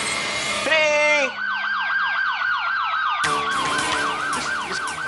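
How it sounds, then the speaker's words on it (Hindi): A police siren wails loudly and close, cycling through rapid rising-and-falling yelp sweeps with a brief steady tone, continuous throughout. "पुलिस का सायरन?"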